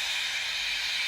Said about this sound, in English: But Henry still stayed in the tunnel and blew steam at him.